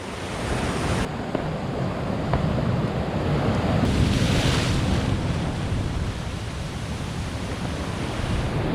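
Ocean swell and waves wash in a steady, loud roar of surf mixed with gusting wind buffeting the microphone, with no voices.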